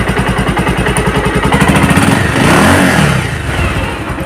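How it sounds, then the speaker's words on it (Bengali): A used second-hand motorcycle engine starts and revs up close and loud, a steady rapid putter swelling into a higher rev and then settling back, with no voices over it. "ইঞ্জিন সাউন্ডটা আপনারা দেখেন"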